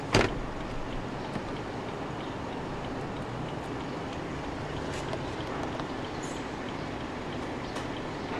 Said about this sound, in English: use this button to move the whole seat forward